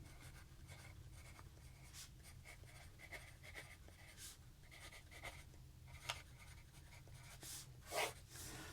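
A newly sharpened pencil scratches on paper in quiet, close strokes, with repeated short scribbling bursts and brief pauses during sports card price tracking, and no talking.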